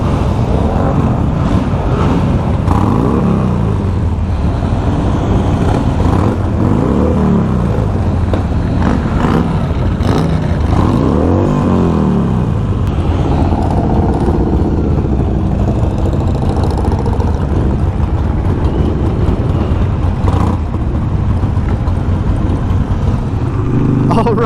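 Harley Sportster motorcycles starting and revving together at the start of the 2022 Philadelphia Distinguished Gentleman's Ride, making a loud, continuous close-up engine rumble with swelling revs and faint voices underneath.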